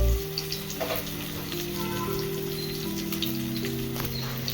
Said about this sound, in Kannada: 2 ಟೇಬಲ್ ಸ್ಪೂನ್ ಎಣ್ಣೆ ಹಾಕ್ತಾ ಇದ್ದೀನಿ. ಸಾಸಿವೆ ಮತ್ತು ಜೀರಿಗೆ 1 ಟೇಬಲ್ ಸ್ಪೂನ್